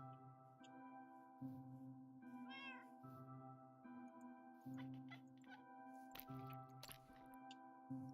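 A Minecraft cat gives a short meow in the middle of looping game background music, with soft clicks and game sounds toward the end.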